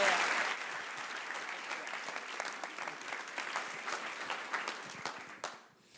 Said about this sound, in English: So let's give a big round of applause for Konadu.